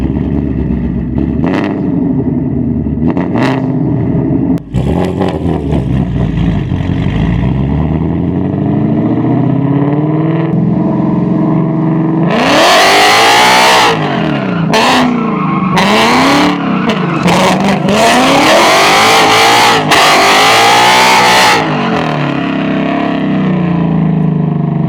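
A loud car engine revs hard and repeatedly while drifting on a WiseFab angle kit, with rising and falling pitch and tire screeches as the car slides, continuous and close throughout.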